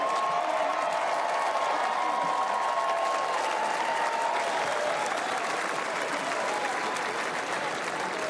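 A large convention crowd applauds steadily, a dense continuous wash of clapping heard from amid the audience, with faint voices mixed in.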